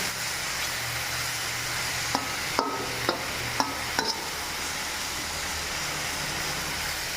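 Tomatoes sizzle in a hot frying pan with a steady hiss and a few sharp clinks as a spatula stirs them, heard close with no voices.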